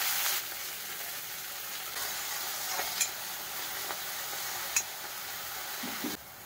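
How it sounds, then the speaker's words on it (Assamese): Chopped leafy greens sizzling in hot oil with fenugreek seeds, a steady, moderately loud fry hiss with a few faint crackles and pops, ending with a drop in the sizzle. "কাটি থোৱা শাকখিনি দি দিম।"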